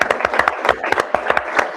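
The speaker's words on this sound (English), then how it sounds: "Let's please give our panelists a round of applause." A seated audience at a Houston public hearing claps for the panelists, with dense, irregular clapping bursts that are loud and close throughout the short stretch.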